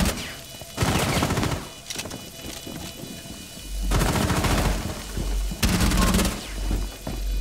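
Bursts of gunfire in Rainbow Six Siege during a bomb-defuse round, loud rapid volleys in three separate clusters with heavy low booms, and quieter game ambience between them.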